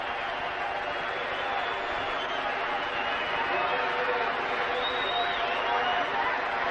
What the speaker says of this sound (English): the reception for Mighten Power. The crowd really yelled themselves hoarse.